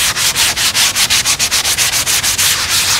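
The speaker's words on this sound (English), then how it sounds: "This is a flexible sanding pad. It's flexible, it's backed by foam." Rapid, rhythmic back-and-forth rubbing of a flexible foam-backed sanding pad over an RC airliner's airfoil, close and loud, with regular strokes.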